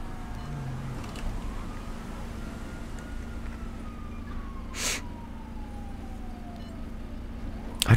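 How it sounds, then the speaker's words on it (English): A faint police siren wail in the video game GTA V drifts in the distance over a low steady hum, slowly sliding in pitch, with a brief burst of noise midway. "I don't know where that siren's coming from."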